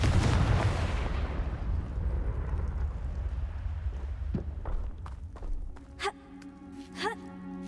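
A Confringo fire spell bursts in the Hogwarts Legacy video game, hitting with a loud, booming explosion that decays over a few seconds into scattered game effects and lighter footstep-like sounds.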